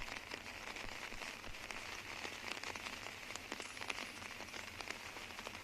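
Rain falling steadily during an outdoor disc golf tournament, a faint, even hiss of drops pattering on surfaces with scattered sharper taps, continuous throughout, no talk.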